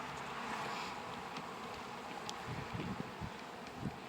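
Honeybees drone in a steady low buzz inside an opened poly hive during a brood inspection, with faint rustling and a few brief clicks close by.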